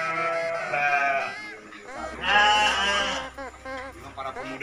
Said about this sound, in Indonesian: Berjumpa dengan saudara-saudara domba.